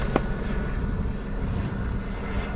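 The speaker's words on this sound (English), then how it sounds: "there is a helicopter circling above, and it's making me nervous" Steady low engine drone of a helicopter circling overhead at night, constant and moderately loud, with a faint click near the start and no voices.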